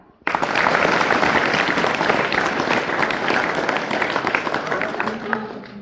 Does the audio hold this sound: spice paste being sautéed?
no